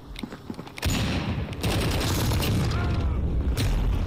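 Gunfire in Call of Duty: Modern Warfare hardpoint mode, a few scattered shots followed by heavy sustained bursts and booms, loud and dense, with a voice briefly heard.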